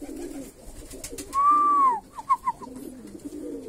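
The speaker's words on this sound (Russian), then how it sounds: "птички. Весна, короче, пошла" Armenian pigeons in spring give a single close, drawn-out coo followed by a few short, soft coos over quiet background noise.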